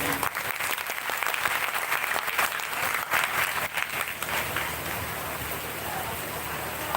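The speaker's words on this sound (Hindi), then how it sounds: "एक बार ताली बजाएं अपने लिए" Audience clapping at a Shrimad Bhagavat Katha discourse, a thick wash of many hands, loud and steady, softening slightly toward the end.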